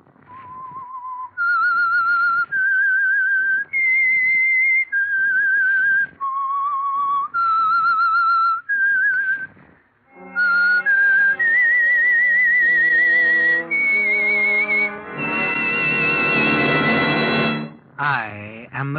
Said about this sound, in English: Whistle is your signal for the Signal Oil program,